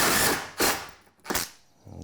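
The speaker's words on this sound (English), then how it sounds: "Now I can screw the plywood down." A power drill drives screws into a plywood shelf on a scrap-wood garage workbench, whirring in three short close bursts separated by brief pauses.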